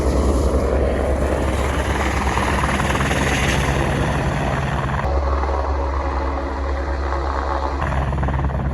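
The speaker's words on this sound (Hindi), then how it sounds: "हेलीपैड यहीं पे ही है, बस ये लैंड कर रहा है।" A helicopter lands at the Ghangaria helipad in the Himalayas on the Hemkund Sahib pilgrimage route, its rotor and engine roaring loud and close without a break throughout.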